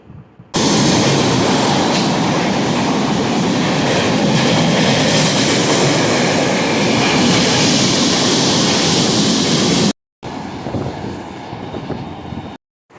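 A train rumbles loudly and steadily nearby at Ambernath railway station, a dense rolling roar of wheels on rails that briefly cuts out, then resumes.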